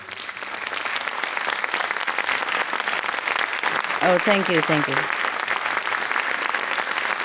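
Audience applause at a book premiere celebrating the Spanish edition of someone's The Dogs in My Life: loud, sustained clapping from a large crowd, with a voice briefly speaking over it midway.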